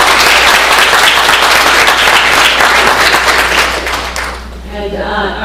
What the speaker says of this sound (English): maybe we can give her a round of applause